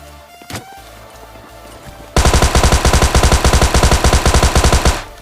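A Tommy gun fires in PUBG Mobile Lite: after a quiet moment with a single sharp crack, a loud rapid automatic burst runs steadily for about three seconds, each shot punchy and close.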